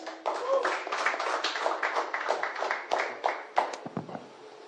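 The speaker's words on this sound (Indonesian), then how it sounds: "tepuk tangan buat Bang Rizal." Audience applause at a discussion forum on hajj funds, a burst of scattered hand claps from a modest crowd lasting a few seconds before thinning out.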